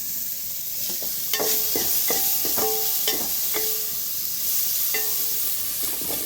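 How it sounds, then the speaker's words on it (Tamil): Onions and blood fry sauté in a little oil, a steady close sizzle running throughout, broken by several sharp spatula scrapes and taps against the pan. "கம்மியாக ஊற்றி தான் வதக்கிட்டுருக்கேன்"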